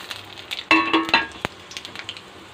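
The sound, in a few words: whole spices tempering in hot mustard oil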